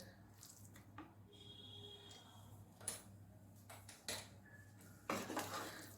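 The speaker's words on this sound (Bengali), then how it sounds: "এইভাবে সমানে নাড়তে লাগবে যাতে তলায় যেন না লেগে যায়।" A coconut and sugar mixture for coconut laddu is stirred in a pan over a low flame, with soft scraping and intermittent metallic clinks of the utensil against the pan, fairly quiet and close.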